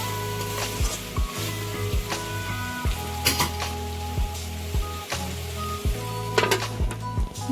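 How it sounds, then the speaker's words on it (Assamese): Chicken pieces sizzle and fry in a pan, with a steady close sizzle broken by repeated scraping stirs and clanks of a utensil against the metal, rhythmic and distinct with no talking. "এতিয়া আকৌ ভালদৰে লৰাই দিছোঁ।"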